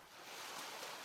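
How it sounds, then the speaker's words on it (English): Water sloshes in a dark scene from a visual novel game, a steady, loud, broadband wash and churn that fills the whole moment with no voices over it. "I can hear the sounds of sloshing water"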